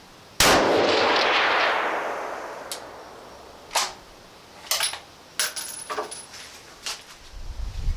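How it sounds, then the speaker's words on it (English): A DPMS Miculek LR-308 rifle with a muzzle brake fires one sharp, very loud shot with a long, booming decay, followed by fainter clinks and thuds. "Man, a lot of muzzle blast, though. It's pretty loud."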